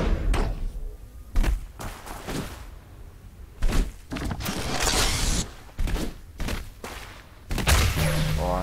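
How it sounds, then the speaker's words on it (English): Rocket fire in the ShootMania arena shooter, several sharp thumping shots and blasts scattered through a busy match with overlapping game sounds, fairly loud and irregular. "Nice rocket."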